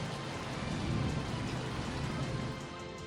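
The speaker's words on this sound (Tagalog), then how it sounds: "Biglang buhos ang malakas na ulan sa ilang bahagi ng Metro Manila pasado alas 6 ngayong gabi." Heavy rain pours down during an evening thunderstorm in Navotas, Metro Manila, a dense, steady roar with thunder rumbling underneath, loud throughout and easing slightly near the end, with no voices.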